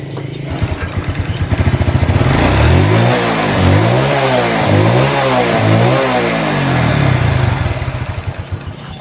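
A Blade FI motorcycle, vibrating and short on power, fitted with upgraded double clutch plates, starts up close by and is revved several times, its loud engine note rising and falling between pulsing idle stretches.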